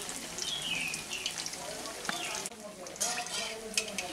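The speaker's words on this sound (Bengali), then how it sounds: "আমি একটু আঁচটাকে স্লোতে রেখে এগুলো ভাজছি, যাতে কুমড়োটা খুব ভালোভাবে ভিতরে সেদ্ধ হয়ে যায়।" Pumpkin fritters fry slowly in oil on low heat, a steady soft sizzle with scattered pops and faint scraping as they are turned, under quiet background sounds.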